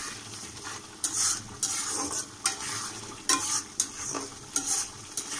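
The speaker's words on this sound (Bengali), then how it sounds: "এখানে আর কিছুক্ষণ কষাবো।" Bitter gourd and fish belly sautéing in mustard oil in a pan, a continuous close sizzle broken by repeated scraping stirs at a loose, regular rhythm.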